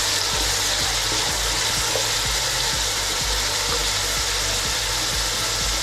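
Mixed vegetables frying and being stirred in a pan, a loud continuous sizzle with a regular rhythm of spatula scrapes and knocks against the pan throughout, close up.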